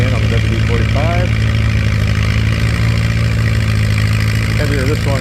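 A WD-45 antique tractor engine runs steadily at a tractor pull, a loud, continuous mid-pitched drone with a low rumble throughout, heard up close alongside faint crowd and announcer sounds.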